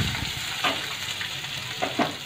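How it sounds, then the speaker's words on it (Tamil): Steady sizzling of chopped onions sautéing in a pan for tomato rice, with soft stirring scrapes now and then, close and continuous with no voices. "வெங்காயத்தை போட்டு வதக்கலாம்."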